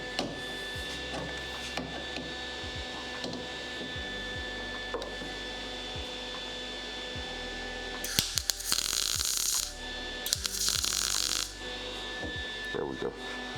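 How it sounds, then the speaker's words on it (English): Two short bursts of harsh crackling hiss from tack welding during rust repair behind a car's headlight bucket, each lasting about a second, amid quiet workshop clatter and occasional knocks. "I need to put a tack weld on top there."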